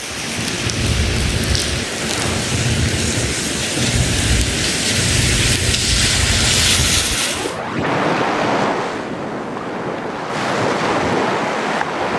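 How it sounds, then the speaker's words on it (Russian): Heavy typhoon rain pours down with deep rumbling thunder over north-eastern Taiwan, a loud continuous roar; the low rumble fades near the end, leaving hissing downpour alone. "сильные дожди вызвали локальные паводки на северо-востоке острова"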